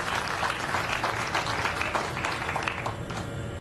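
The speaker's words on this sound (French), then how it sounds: "Nous invitons donc ici les 4 agents de s'applaudir." An audience at a televised fiscal ceremony applauds in a dense, sustained round of clapping that holds steady for several seconds, then cuts off abruptly at the end.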